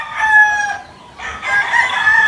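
A gamecock stag crows loudly and close by, a strained call that breaks off briefly and then resumes in a second drawn-out crow, with no one talking.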